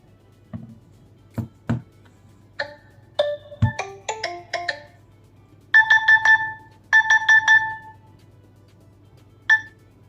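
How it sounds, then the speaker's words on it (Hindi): An Infinix Note 50x 5G+ phone's anti-theft alarm sounds a series of electronic beeps and chirping tones after a few clicks and taps, rising in bursts of repeated melodic bleeps. "ऐसे 2 केस में आपके फोन में अलार्म बजेगा"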